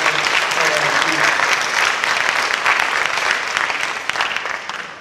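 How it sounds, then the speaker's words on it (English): A studio or hall audience breaks into dense, sustained applause at a motivational talk, loud and even throughout before starting to taper near the end. "I want you to give yourselves a round of applause"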